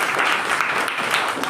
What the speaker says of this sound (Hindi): सभी बच्चे अपने लिए तालियां बजा दो